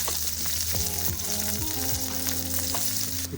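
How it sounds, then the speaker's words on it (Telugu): Onions and green chillies frying in hot oil for a spicy chicken fry, a steady close sizzle running throughout, with faint tonal music behind it. "ఆయిల్ కొద్దిగా వేడి కాగానే ఆనియన్స్ వేసుకోవాలి."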